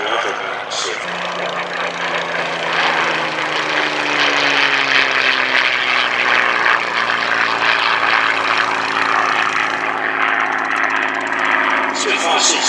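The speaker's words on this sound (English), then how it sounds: "Spitfire's in service in all theatres of operation around the world, and flying today at Old Warden may be a fitting tribute to Mary Ellis" A Spitfire propeller aircraft flying at the Old Warden airshow, a loud sustained engine drone with a slowly shifting pitch as it passes, under continuous announcer commentary over a public address.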